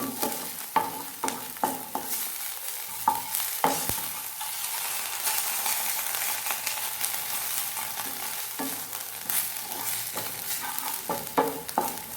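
Onions and green chillies frying in a pan for potli samosa filling, a dense, continuous sizzle broken by repeated close scrapes and knocks of a spatula stirring, loud and steady throughout with no voices.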